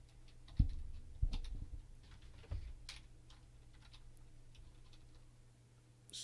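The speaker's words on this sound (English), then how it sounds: "So here I am typing username." Soft keystrokes tap on a computer keyboard as a username is entered, a few quick bursts of clicks followed by sparse, faint taps in a quiet room.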